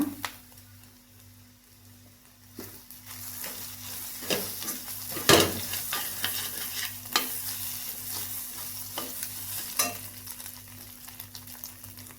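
Drumstick leaves and egg stir-fry in a pan over medium flame, with a steady sizzle under repeated scraping and clinks of a spatula against the pan, and a sharper metallic knock near the middle.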